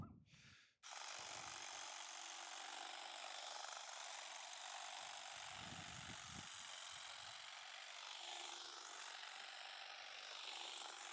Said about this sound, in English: you can certainly use a heavy grass trimmer just like this.